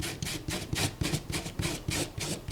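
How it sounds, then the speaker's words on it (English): An eraser rubs dried glue off paper in quick back-and-forth strokes, a rhythmic scratchy rasp repeated about ten times, close and steady, with no talk. "Let's erase that glue."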